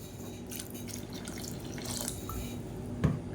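Running water from a tap pours steadily into a mixer jar, a continuous splashing hiss with a small clunk near the end.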